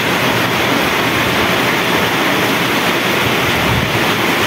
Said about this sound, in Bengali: দেখছেন কি ঝড়, হালকা হালকা বাতাস